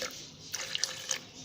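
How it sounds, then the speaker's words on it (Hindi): Water pours into a mixer grinder jar holding chopped ginger, a short close trickle with a few splashy bursts. "हाफ ग्लास के करीब मैंने पानी डाल लिया है इसमें।"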